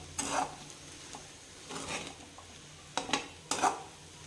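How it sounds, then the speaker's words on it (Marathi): Sabudana and potato stirred and sautéed in a pan, a spoon scraping and clinking against the metal in several short strokes with gaps between, close, over a soft sizzle. "आता हे छान बटाटा आणि साबुदाणा मी मिक्स करून घेतले, परतून घेतले 10 मिनिट."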